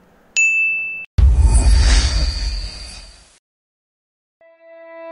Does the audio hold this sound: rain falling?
no